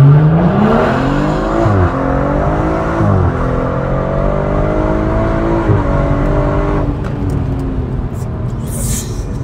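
A BMW M140i F20 LCI hatchback, stage 2+ tuned to 500 horsepower with a full exhaust, accelerates hard from a launch with brief wheelspin at the start, its loud engine climbing through the revs with a shift, and people exclaim near the end.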